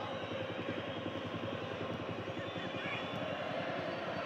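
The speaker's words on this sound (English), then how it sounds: "These helicopters hovering overhead." Helicopters hover overhead near a football stadium security cordon in Italy, a continuous loud, rhythmic rotor thud and engine drone filling the whole stretch, with a voice talking over it.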